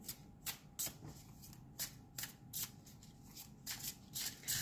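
Tarot cards from an occult tarot deck being shuffled by hand, with repeated soft, close riffling bursts in an uneven rhythm and quiet between them.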